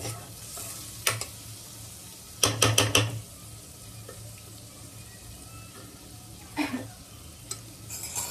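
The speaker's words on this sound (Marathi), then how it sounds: "मी आता हे मिक्स पूर्ण करून एक अर्धा एक मिनिट तुम्ही असं थोडंसं गरम ह्याच्यावर बारीक गॅसवर ठेवायचंय." A spoon stirs a khichdi mix heating in a pot over a low gas flame, giving a few short scraping clusters, one louder burst of quick scrapes, over a faint steady background hiss, close and quiet with no talking.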